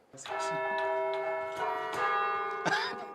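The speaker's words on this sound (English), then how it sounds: "So if I hit these keys right now, would we hear bells?" Bright, ringing carillon bells played from a keyboard sound a melody in several struck notes, their tones overlapping and sustaining with a rich metallic shimmer.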